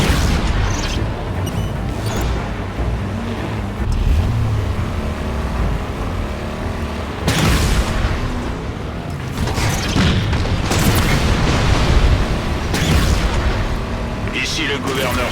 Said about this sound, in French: On reçoit des tirs sur le siège passager.